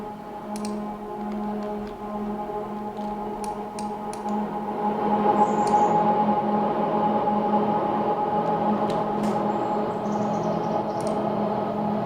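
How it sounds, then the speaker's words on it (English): A processed recording of a SkyTrain plays as a quiet steady rumble with tonal hum, swelling slightly midway, with faint ticks and clicks scattered on top. "I took this recording, or it's a recording of like a SkyTrain"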